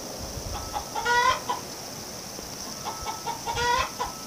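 Outdoors, a chicken lets out two short bursts of rhythmic clucking, moderately close over a quiet background with faint insect hiss.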